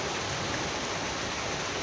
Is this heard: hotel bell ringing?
no